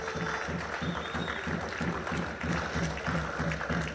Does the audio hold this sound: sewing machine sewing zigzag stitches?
no